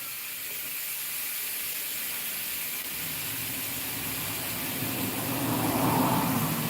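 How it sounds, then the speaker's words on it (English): Bacon sizzles on a hot plate with a steady, close hiss that grows slightly louder and fuller toward the end, with no voices. "So let's start with a bacon. Gotta love that sizzle."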